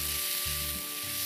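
Turmeric, coriander-cumin powder and red chilli powder are stirred in a hot frying pan, producing a continuous close sizzle with low scraping strokes of the spoon under it.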